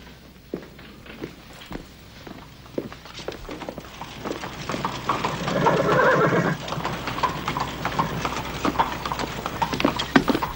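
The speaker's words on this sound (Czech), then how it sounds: "Krytý kočár, Holmesi" Hooves of a horse pulling a covered carriage clip-clop in an uneven walking rhythm as it draws closer, with a whinny and rolling wheel noise swelling midway, fairly near and loud.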